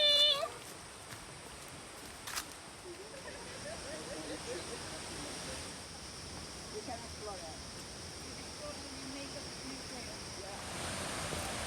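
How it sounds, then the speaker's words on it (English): A waterfall on a hiking trail gives off a steady, continuous rushing roar of falling water that fills the whole stretch, with faint voices now and then beneath it. "Another waterfall."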